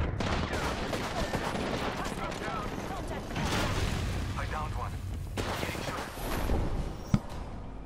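Gunfire from the video game Apex Legends rattles in dense bursts throughout, with a sharp report near the end. It plays under and between a voice.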